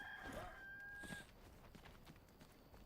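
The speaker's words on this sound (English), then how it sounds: "there's a rooster." In the video game Enshrouded, a single faint rooster crow rises and falls at a distance over quiet rustling and clattering ambience.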